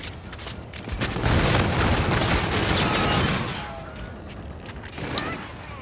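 Hailstorm pistol fire in a first-person shooter video game, a rapid dense burst of gunshots lasting a few seconds, followed by quieter scattered shots and game effects.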